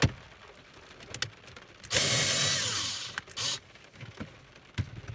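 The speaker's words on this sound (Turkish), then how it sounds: "Şimdi ben e, şarjım matkabımla bunları çıkartacağım." A cordless drill backs Torx screws out of the centre-console clock of a Citroen C2/C3, in two short whirring bursts with quieter handling noises around them.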